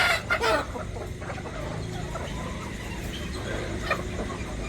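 Chickens and a rooster cluck nearby on a farm at night, with a louder burst of clucking at the start and quieter fowl sounds continuing over a steady background hum.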